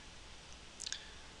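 A couple of quick, faint computer mouse clicks come close together against a low background hiss.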